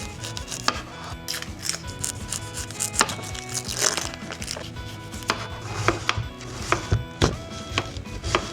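A knife chops carrots and potatoes on a cutting board in quick irregular strokes, sharp knocks repeating close up with no talking.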